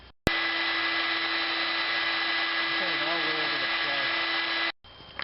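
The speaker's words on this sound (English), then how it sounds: "I've added a piece of vinyl tubing to this hand vac." A hand vacuum fitted with vinyl tubing sucks debris from a spark plug well on a Ford F-150 5.4L engine, a steady loud motor whine running for several seconds before cutting off abruptly, with a brief quieter hum after.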